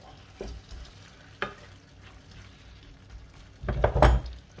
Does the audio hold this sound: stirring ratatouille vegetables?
yes